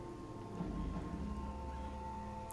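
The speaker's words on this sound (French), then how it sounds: "Avec la pluie et tout." Steady rain in Middle-earth: Shadow of Mordor, a continuous hiss of falling water with a low rumble underneath, holding even and alone throughout.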